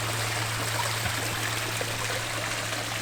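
Water trickles steadily in a murky outdoor koi pond, a soft continuous flow at low volume with a faint low hum beneath it and no talk.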